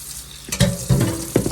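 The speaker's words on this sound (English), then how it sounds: "that's the first rinse, and this will go on until the water runs totally clear" Tap water splashes in a kitchen sink as homemade butter is rinsed, with three bursts of gurgling, clattering water after a quiet start, close and moderately loud, no talking.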